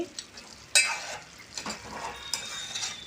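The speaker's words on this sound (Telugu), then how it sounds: "పెరుగు, కారం వేసుకున్నాక శుభ్రంగా ఇలా కలిపేసుకోవాలి." Chicken curry mixed with yogurt and chili powder in a pot, with a spoon scraping and clinking against metal in irregular strokes over a soft sizzle, close and moderately loud.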